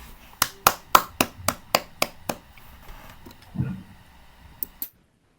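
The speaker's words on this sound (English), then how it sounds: "Give applause to our presenters." Applause for presenters at an online webinar comes as about ten crisp, evenly spaced claps close to the microphone, followed by a brief pause and two final claps before silence.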